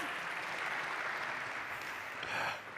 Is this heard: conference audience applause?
yes